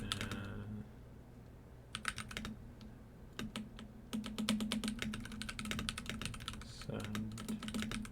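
A computer keyboard clatters with quick irregular keystrokes as an email address is typed, fairly quiet and close, with a low steady hum and a voice talking briefly at the start.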